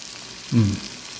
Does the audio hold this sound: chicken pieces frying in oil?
yes